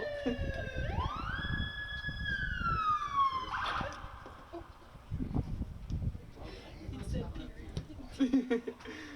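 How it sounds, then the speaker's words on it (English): An ambulance siren sweeps upward and then wails as it approaches a high school boys' soccer game. It sounds moderately near, while crowd noise and scattered voices continue underneath. "Got an ambulance coming up here."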